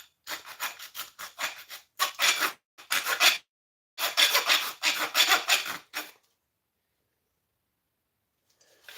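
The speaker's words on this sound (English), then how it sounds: "A file here and rub it on it, see?" A very rough file rasps across stainless steel scrap in quick bursts of scraping strokes, close and clear, followed by a few seconds of silence.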